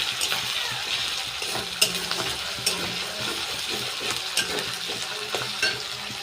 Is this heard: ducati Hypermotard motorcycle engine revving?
no